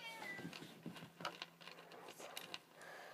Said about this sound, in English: the noise was just a cat